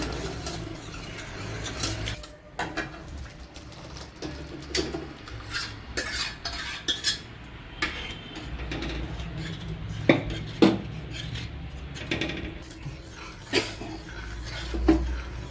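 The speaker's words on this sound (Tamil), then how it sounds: "இப்போ பருப்பை ஊற்றிக்கலாம்" Cooked lentils being poured and stirred into a pot of sambar with boiled vegetables, a busy mix of ladle clanks, scraping and pot knocks over a low bubbling background, with sharper metallic hits toward the end.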